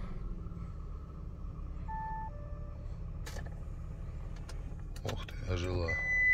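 A 2011 Audi A8 3.0 automatic starting up: quiet cabin with electronic chime tones, a few clicks, then the engine cranking and catching into a rising idle rumble as a voice speaks.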